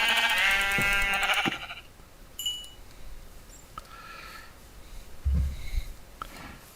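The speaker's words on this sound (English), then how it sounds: "And there's one more sheep." Sheep in the Minecraft modpack FTB Magic Farm 2 bleat loudly and close for about a second and a half. Quieter short game sounds and soft thumps follow.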